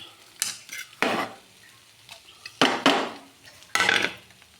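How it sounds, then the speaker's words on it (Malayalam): Ground coconut paste is stirred into jackfruit thoran in a pan: loud, close scraping strokes and clattering utensil knocks come in several bursts over a faint sizzle, with no talk. "അരപ്പിട്ട് കൊടുത്ത് നന്നായിട്ട് ഇളക്കി യോജിപ്പിക്കാം"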